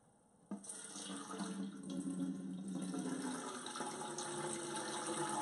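Water from a Hisense dehumidifier bucket poured out into another bucket, starting abruptly and continuing as a steady, splashing gush close by.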